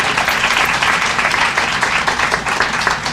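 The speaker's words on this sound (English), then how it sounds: "Can you stand up and give yourselves a round of applause?" A crowd at a groundbreaking ceremony for a town square gives a round of applause, steady dense clapping that holds at full strength throughout the short stretch.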